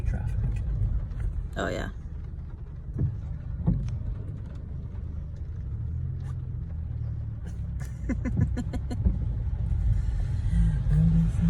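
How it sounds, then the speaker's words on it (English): Road traffic rolls past as a steady low rumble with a passing vehicle swell, heard on a busy street during a Christmas shopping outing, with a brief voice near the start. "Some great traffic"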